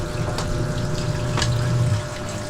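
Water runs steadily from a tap or pump during hand laundry of clothes at home, a continuous close rushing with a low hum underneath and a couple of brief splashy surges.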